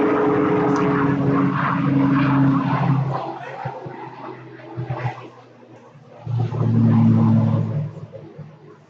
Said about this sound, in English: Low-flying airplane here.